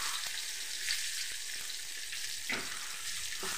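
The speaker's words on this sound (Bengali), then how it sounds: "এবার ডিম আলু সবগুলোকেই ভালো করে একটু ভেজে নেব।" Duck eggs and potatoes fry together in a pan with a steady, close crackling sizzle, interrupted by a few soft scraping stirs, and nobody speaks.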